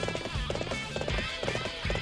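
Rhythmic horse hooves clip-clopping at a steady gallop in the video game Warriors Orochi 3 Ultimate Definitive Edition, repeating in regular bursts under game sound.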